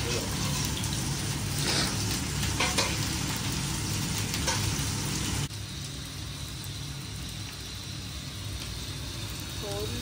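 Crab and other seafood fry and sizzle in a pan while being stirred, a steady close crackle with scraping that drops slightly in level partway through; no talking.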